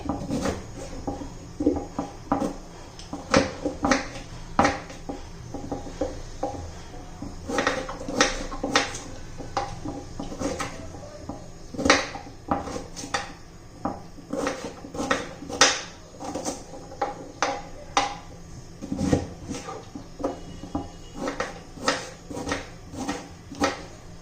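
Beetroot being chopped into small pieces for halwa, a steady run of sharp knife taps on a board, close and clear with brief pauses, no talking.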